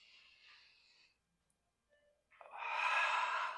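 A long, audible exhale during a vinyasa yoga flow, a breathy rush that swells near the end after an earlier softer breath and a short quiet pause.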